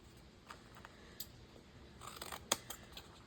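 Scissors snipping through napkins and book pages, a few quiet, sparse crisp cuts with one sharper snip near the end, close but faint, with no talking.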